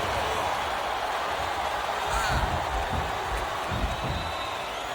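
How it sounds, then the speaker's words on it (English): Wrestling arena crowd noise from the video game WWE SVR 2007 during a Last Man Standing match, a dense continuous roar at a steady loud level with some thumps underneath. "I love hearing the crowd come alive"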